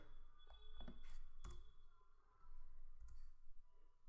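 Keys pressed on a computer keyboard, a few sharp, faint clicks spaced irregularly, including a distinct pair of taps, over quiet room noise.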